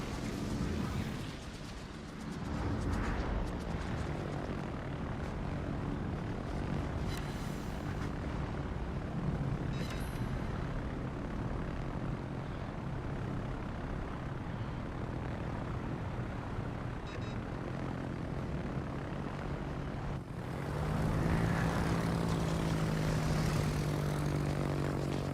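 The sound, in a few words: carrier planes flying in video game World of Warships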